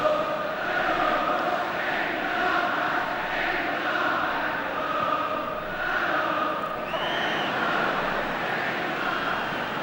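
A large football crowd at an England v Hungary match chants together in a steady, sustained roar, distant and echoing around the stadium, with a commentator's voice under it.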